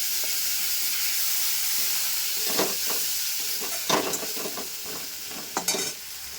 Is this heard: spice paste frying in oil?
yes